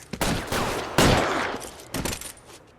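Gunshots ring out in a shootout in L.A. Noire, three or four loud, sharp cracks spaced about half a second to a second apart, each trailing into echoing decay, close and unaccompanied by talk.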